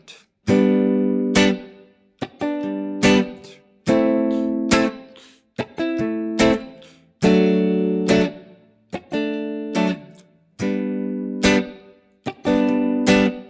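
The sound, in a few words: guitar playing 2-5-1 chord progression in G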